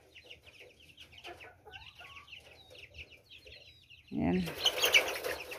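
Pet chickens and chicks on a farm cluck softly, with scattered chirps and peeps mixing in the background. Louder, close clucking and fluttering noise rise near the end as a person speaks briefly.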